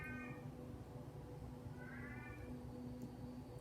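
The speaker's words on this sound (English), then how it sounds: "He is a kitty, a black kitty, and he is singing right now." Black cat meowing indoors, two drawn-out yowling meows about a second and a half apart, moderately distant over a faint steady background hum.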